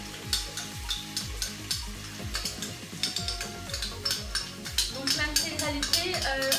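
A courgette, brie and tuna filling with crème fraîche cooks gently in a pan. A spatula scrapes and stirs in regular strokes about twice a second over a low, constant sizzle, with occasional utensil clinks.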